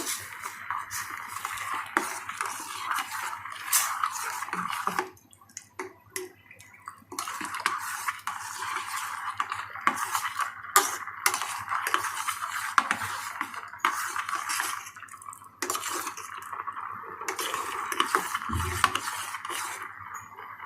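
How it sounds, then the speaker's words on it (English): A spoon stirs a vegetable clear soup seasoned with salt, black pepper and garlic in a pot, giving continuous close scraping and light clinking against the metal, with short pauses between stirs. "Now stir it"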